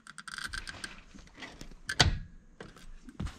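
A CD009 manual shifter in a Lexus IS300 that resists going fully into gear clunks and clicks through a few scattered mechanical knocks, ending in one sharp, close clunk as it finally engages.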